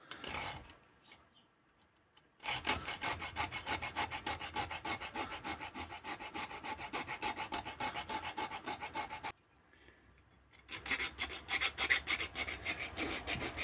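Wooden pistol grips for a CO2 1911 are shaped by hand with a rasp or file, giving long stretches of rapid, rhythmic scraping strokes, close and crisp, broken by a couple of short pauses.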